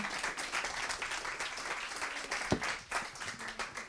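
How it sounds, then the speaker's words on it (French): Audience at a student startup pitch battle applauds a pitch team with steady massed clapping, a few sharper individual claps standing out near the end, heard at moderate distance. "je crois qu'on peut les applaudir"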